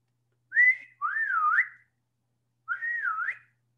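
A person whistles to imitate a groundhog hailing a taxi: three clear, close, sliding whistled notes, with the second long and wavering and a short gap before the last.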